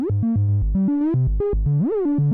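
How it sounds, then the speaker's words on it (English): Arturia MiniBrute 2S analog synthesizer playing a triangle waveform with pitch frequency modulation, a short sequence of stepped notes jumping up and down with some sliding pitch bends, loud and continuous with no talking. "So here we have a triangle waveform, and I'll increase the frequency modulation here of the pitch."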